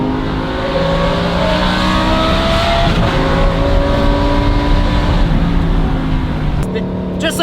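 Lamborghini Huracan STO with a Valvetronic Designs exhaust, its engine revving loud and close in sustained rising and falling pulls, with a brief lift near the end.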